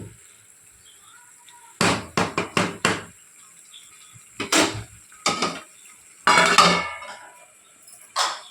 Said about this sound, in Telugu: దీన్ని మళ్ళీ మూత పెట్టేసుకుందాం.